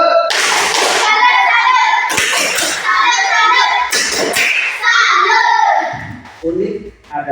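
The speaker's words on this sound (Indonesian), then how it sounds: "Tepuk salut untuk itu semua." Children in a classroom chant and clap a rhythmic salute clap, their voices and sharp hand claps coming in several loud bursts with brief gaps between them.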